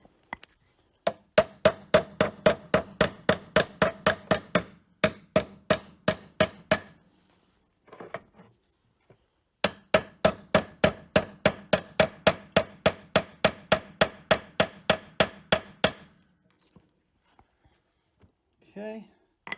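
A stud is hammered into the U-joint of a Jeep Cherokee axle in two long runs of sharp metallic strikes, evenly spaced and close, with a pause between the runs.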